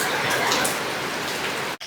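Rain falls steadily outside a house during an afternoon downpour, making a constant close hiss of drops striking surfaces that continues unbroken until a brief cut at the very end.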